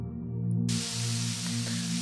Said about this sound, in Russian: Так, заправляемся кислородом.